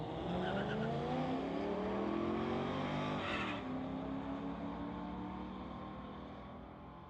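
An Audi and a Chevrolet Blazer drag racing down a quarter-mile strip at a street-legal event, with loud engines roaring at full throttle and rising through gear changes before fading as the cars pull away.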